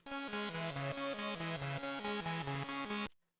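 A dry synth lead plays a rhythmic, stepping melody with crisp harmonics, steady and loud, then cuts off abruptly with no tail.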